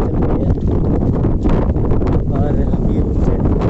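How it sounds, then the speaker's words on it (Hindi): Strong outdoor wind buffets the microphone in a loud, continuous rush with gusty swells, staying dense and close throughout with no pauses. "अच्छी तरीके से हवा चल रही है।"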